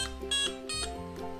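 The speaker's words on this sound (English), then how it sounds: "So you can hear it beeping as it goes up." A laser hair removal device beeps in short tonal bursts, several in quick succession as its intensity is raised, close and clear with no talking.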